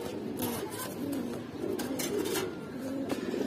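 Several pigeons, including a club-tagged bird, coo repeatedly at close range in a loft, soft overlapping rolling calls forming a steady murmur.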